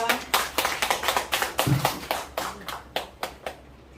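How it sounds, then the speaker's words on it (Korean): A short burst of audience clapping at a poetry-writing lecture, a few pairs of hands tapping in an uneven rhythm that tapers off over several seconds. "여러분들 박수 부탁드리겠습니다"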